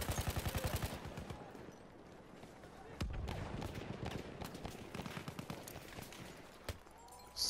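Battlefield 1 gunfire, including a sniper, opens with a rapid burst and then scattered loud shots and distant battle noise. Voices are heard throughout.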